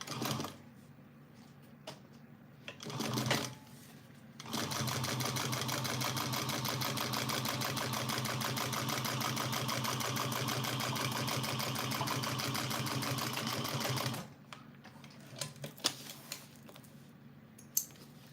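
A sewing machine stitches a small Araki box bag in one long continuous run of rapid even whirring, close and fairly loud, framed by brief quieter handling noises before and after.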